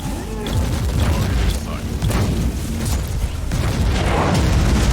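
A grenade detonates amid combat in the video game Warhammer 40,000: Inquisitor - Martyr, heavy booming blasts rolling into a sustained, loud low-end rumble of battle noise with sharper crackling bursts, a voice faintly present underneath.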